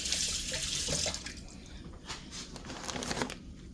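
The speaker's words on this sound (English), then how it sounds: "Get my knife rinsed here." A kitchen knife rinsed under a running sink tap, water hissing and splashing close by for a few seconds, with light clatter mixed in and no talk.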